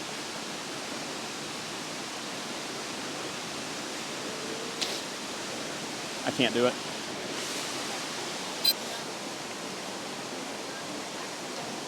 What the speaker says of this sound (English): The waterfall behind me may look like a beautiful attraction